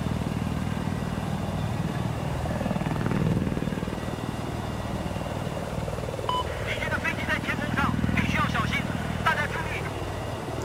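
An attack helicopter in the video game Battlefield 4 gives a steady, droning rotor and engine roar throughout, with sharp clattering bursts near the end and people talking over it.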